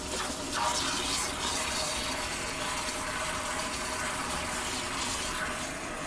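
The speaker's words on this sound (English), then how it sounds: "And I'm going to add some water." Water being added to lab glassware during a Grignard reaction setup, a steady broadband pouring and gushing wash that runs continuously from start to finish at close range with no talk.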